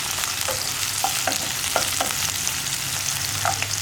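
A sprig of curry leaves sizzles and spits in hot oil in a pan while being stirred, a steady close frying hiss with scattered sharp crackles and pops and no talk.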